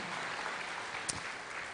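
Brief burst of church congregation applause, a dense steady wash of many hands clapping at a distance with one sharper clap standing out near the end.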